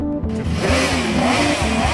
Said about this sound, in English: a motorcycle pulled up and revved its engine to interrupt the interview